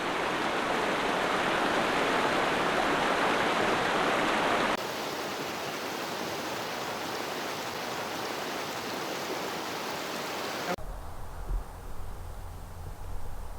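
A creek runs under a small bridge at a roadside trailhead pull-off near Breckenridge in fall, giving a steady, loud, broadband rush of water that goes on without pause and with no voices.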